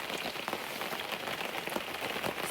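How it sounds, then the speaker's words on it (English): Heavy rain pours steadily on an Appalachian Trail campsite, a dense continuous hiss of drops drumming on surfaces, close and constant with no voices. "It's like raining pretty hard."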